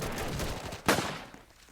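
Gunfire in the Roblox trench warfare game, a sharp shot bursting out of a dense, rumbling battlefield din, with rapid crackling fire around it and no talk.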